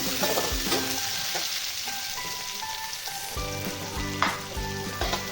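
Chopped onion and tomatoes sauté in a hot pan, giving off a steady crackling sizzle with occasional stirring scrapes and light metallic clinks, close up and without talk.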